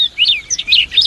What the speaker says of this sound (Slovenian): Ja, in prav lepo poje ta mala ptičica.